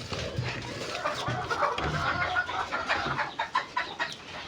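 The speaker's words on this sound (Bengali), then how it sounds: "তো এখানে মুরগিকে আমি কিছু খাবার দিয়ে দিই।" Chickens cluck and chatter close by as they are fed, a busy run of short overlapping calls with occasional scratching and shuffling noises in a farmyard shed.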